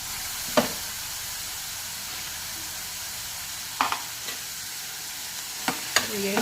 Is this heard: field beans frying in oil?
yes